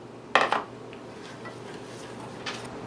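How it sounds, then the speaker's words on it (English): Sugar being whisked into melted butter in a pot starts with two sharp metallic clinks of the whisk against the pot, then fainter scraping, and another soft clank near the end. "Now that my butter has been melted, I'm going to whisk in my 3/4 cup of sugar"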